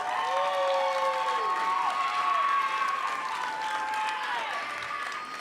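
Sustained applause fills the hall at the 37th annual City of Destiny Awards ceremony, a crowd clapping evenly with a few cheers and brief voices rising over it.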